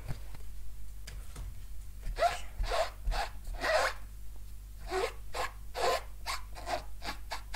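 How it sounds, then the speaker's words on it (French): A chamois cloth is rubbed briskly over a rubber stamp to clean it, producing a series of rhythmic, raspy wiping strokes in two bursts over a low background hum. "je vais venir essuyer, tac tac, mon tampon et le nettoyer avec ma chamoisine"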